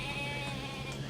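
Goats bleat in a dinosaur enclosure in the video game Jurassic Park Operation Genesis, a steady nasal bleating held over constant game ambience.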